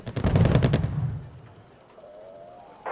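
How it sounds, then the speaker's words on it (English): Mortar fire in the wartime strategy game Wargame: Red Dragon: a dense cluster of booming launches and impacts rolls for about a second, then fades into a quiet lull with a faint rising whine before another burst starts at the end. "we're firing mortars all day"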